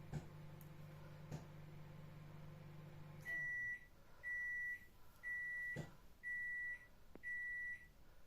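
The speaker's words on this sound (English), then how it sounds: "just wait till the beep stop" A low appliance hum runs until a series of five evenly spaced electronic beeps sounds, each a sustained high tone with brief pauses between, fairly faint.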